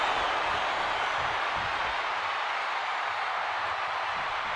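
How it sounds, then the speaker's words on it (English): Virtual arena crowd in the WWE 2K26 wrestling game roars continuously during a match, a dense, steady wash of cheering with no breaks. "this bloodthirsty crowd is loving it."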